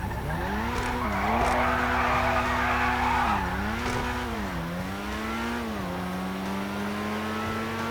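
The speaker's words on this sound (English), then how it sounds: "The reason I did a burnout at the start there is because that gives a little bit of a boost to electric cars" An electric race car in GTA 5 does a burnout at the race start, with a loud sustained tire squeal and an engine whine that rises and dips, heard alone and close.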